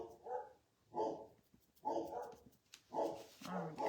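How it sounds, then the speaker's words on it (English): Dogs barking at a distance outdoors, a series of about five muffled woofs in an uneven rhythm. "Can y'all hear the dogs barking?"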